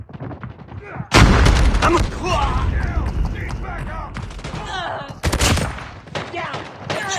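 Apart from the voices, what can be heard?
gunfire in a shooter video game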